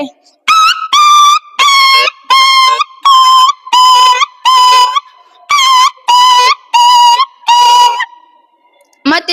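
A mimic's voice imitates a dog yelping in pain after stones are thrown, delivered at a mimicry competition as a rapid series of about twelve loud, high, whistle-like yelps in a steady rhythm, close and alone.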